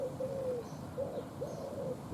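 A wild pigeon in a back garden coos in soft, repeated low hoots, fairly close and steady, with light outdoor background noise and no talking.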